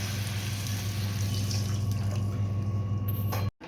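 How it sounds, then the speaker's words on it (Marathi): Water poured from a small vessel into a pot of moong dal khichdi with turmeric, a continuous close splashing pour over a steady low hum, ending abruptly, with no speech. "1 तांब्या पाणी आपण याच्यामध्ये ओतून घ्यायचे"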